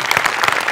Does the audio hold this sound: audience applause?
yes